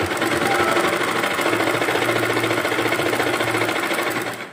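A sewing machine stitches a kurti sleeve design in one loud, continuous run, its needle chattering in a fast, even rhythm up close before slowing slightly at the end, no talk.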